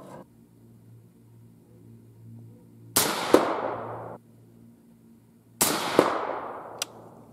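A rifle fitted with a Bering Optics thermal scope fires two sharp, loud shots at a target a few seconds apart, each a hard crack followed by a rolling echo that fades, over a faint low background hum.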